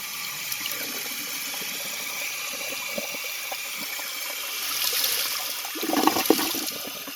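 A 2001 American Standard Cadet toilet flushes nearby, a rushing wash of water that swells toward the end with a gurgling surge.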